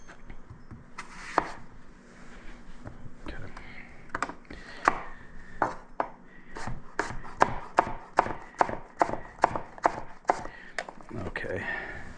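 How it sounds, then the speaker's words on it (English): A knife slices through an apple for a fall apple salad, a series of crisp, close cuts that start sparse and then fall into a quick, regular rhythm of about a dozen firm strokes against a board, with faint background room noise. "I'm going to slice up some of this apple"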